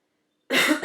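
A single harsh cough bursts out close and loud after a near-silent pause, with a short second cough trailing right behind.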